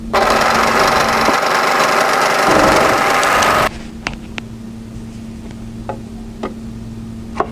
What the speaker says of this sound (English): When you have all 4 of those layers together, overlock.